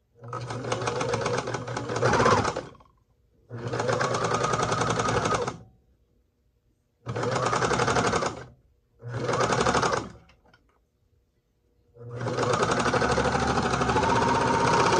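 A sewing machine stitches a sock in five bursts of rapid mechanical whirring, each a few seconds long, separated by short silent pauses.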